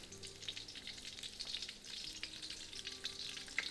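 Egg foo young fries steadily in a hot pan, a continuous close sizzle with small crackling pops throughout, no voices.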